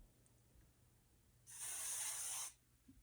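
A single burst of hair spray hisses for about a second, a fine, steady mist sound in an otherwise quiet room.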